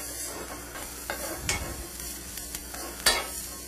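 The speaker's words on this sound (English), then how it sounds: "the shallots are just going to pick up any fat in the pan and bring up the caramelization" Shallots sizzle and get stirred in a pan where venison steak was just pepper-seared, with a steady frying hiss, scraping utensil taps and a few sharper clinks near the end.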